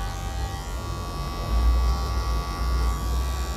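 An electric hair clipper with a number 1 guard buzzes steadily while trimming a mustache, a close, even motorized drone that thickens slightly partway through.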